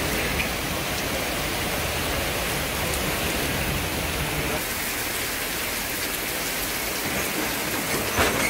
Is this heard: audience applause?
no